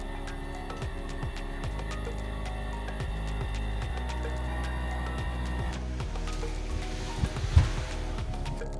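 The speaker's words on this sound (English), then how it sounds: "When I turn on the batteries, we have a pump that's operating. You may be able to hear it." An electric pump on a boat with a Mercruiser engine runs after the batteries are switched on, giving a faint, continuous mechanical hum with some low rustling and knocks toward the end.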